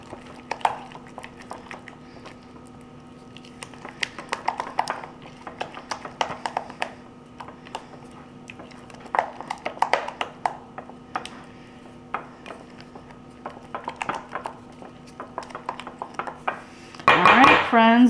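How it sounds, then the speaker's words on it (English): A spoon stirs dipping sauce for a blooming onion in a bowl, producing repeated light clinks and scrapes against the bowl in irregular bursts, with a steady background hum and a louder clatter near the end. "Now let's mix it together."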